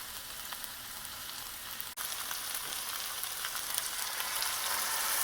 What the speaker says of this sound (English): Now, I'm going to add the wine and let it evaporate.